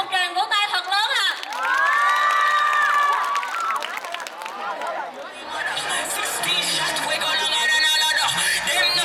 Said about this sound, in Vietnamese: Xin một tràng vỗ tay thật lớn ạ.